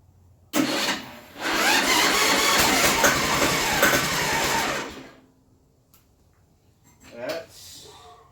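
A mud mower project built on a John Deere is spun over with a drill for a first start after a year, giving a loud, steady churning crank for about four seconds before cutting off. A short burst of talk follows.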